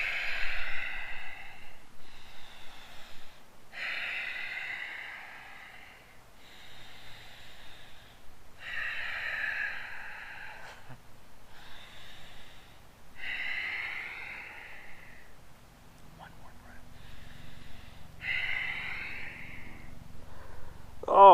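Slow, deep breaths during a children's yoga stretch, each long inhale and exhale repeating in a steady rhythm, close and soft with no talking.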